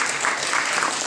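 Applause for a contestant at a school spelling contest, steady clapping from a group filling the whole short moment at even loudness.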